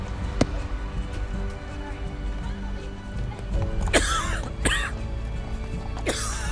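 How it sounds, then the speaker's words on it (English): A man coughs and hacks in harsh, raspy bursts among a family towing a covered cart into a city, with several loud coughs near the end over a low background murmur. "Elouan found the coughing coming from a family towing a covered cart, entering the city alongside him"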